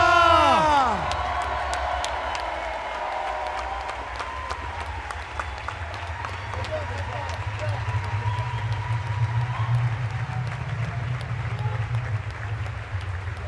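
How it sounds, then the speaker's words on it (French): Crowd at a chessboxing night in Paris cheering and applauding continuously, with whoops and shouts over steady clapping, a low rumble underneath and some voices in the mix. "Applaudissez très fort, Kenza!"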